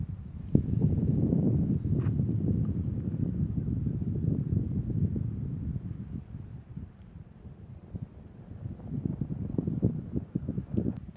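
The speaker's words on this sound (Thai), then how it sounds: "ลมเย็นดีนะครับผม" Cool wind blowing across a dried-out reservoir bed in Buriram during drought, low gusty buffeting against the microphone that rises and falls, with no speech.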